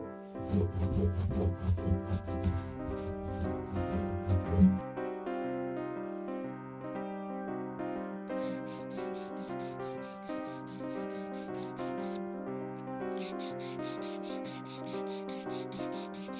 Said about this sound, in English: I'm just doing a crowning file, then 800 grit sandpaper